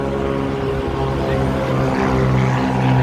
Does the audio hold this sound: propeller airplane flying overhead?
yes